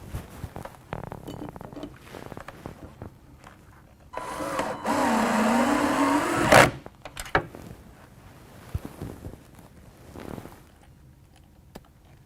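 A power driver sinks screws for wood or concrete to fasten a freestanding range's anti-tip bracket, a single whirring burst of a couple of seconds between quieter handling clicks and taps.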